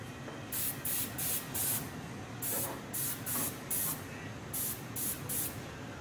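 Short bursts of spray paint hiss in quick clusters, two to four at a time, as a thin shadow line is sprayed around a half pint stencil without a paint gun or compressor, close and clear with no talking.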